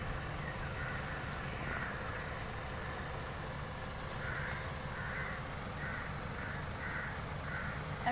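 A crow caws repeatedly in a rhythmic series out in a sunny backyard with trees, moderately distant, over a low steady hum of a car engine idling nearby; no talking.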